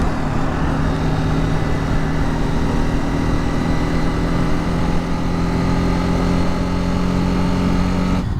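A BMW G310R motorcycle engine runs at about 7,000 RPM while cruising near 70, giving a loud, steady drone with a constant tone and no breaks.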